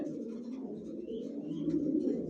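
A grizzle racer pigeon sitting on its eggs in a loft coos softly in low, rolling phrases, close by and continuous, with faint background chirps and no speech.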